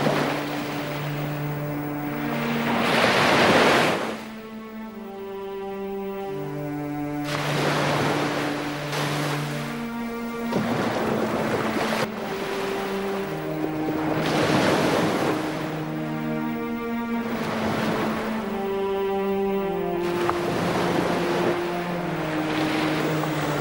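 Sea waves washing in repeatedly, loud broad surges of surf rising and falling every few seconds, with soft melodic tones playing underneath.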